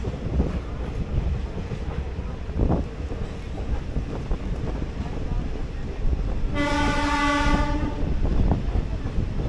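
A DMU passenger local train rumbles into Malbazar station with steady wheel and engine noise and wind buffeting, then gives one loud, sustained horn blast midway before the rolling rumble continues.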